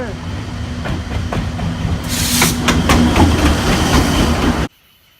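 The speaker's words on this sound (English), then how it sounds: "All right, here comes the train." A train near Machu Picchu, Peru, rolls past close by with loud continuous rumble and rhythmic clickety-clack of wheels on the rails, growing louder before cutting off abruptly.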